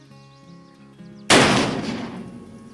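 A single sharp report from a custom muzzle-loading cap-lock percussion pistol fired at a can downrange, a sudden loud crack that decays over a second or so of echo after a quiet lead-in.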